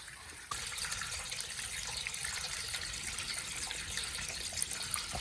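Water gushing steadily out of a flooded well as it drains, a loud continuous rushing and splashing that starts abruptly after a quiet moment and holds on alone without talk.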